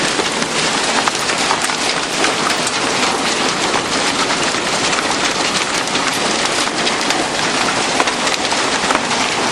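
Hail storm on a farm, nickel-sized hailstones pelting down in a dense, steady hiss and clatter that stays loud and unbroken throughout, with no voices.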